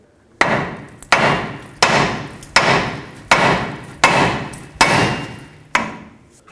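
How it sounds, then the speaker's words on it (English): Eight loud, evenly spaced hammer blows ring out on the steering knuckle of a 2007-2014 Chevy Silverado, each sharp strike followed by a brief decaying ring. "And with a hammer, hit right here on the knuckle,"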